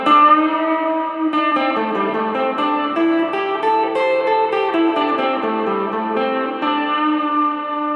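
A Tagima TW 55 electric guitar played through a Line 6 Spider V20 amp with reverb turned all the way up, plus some delay and chorus, rings out in sustained chords and notes with washy echoing tails and no talking.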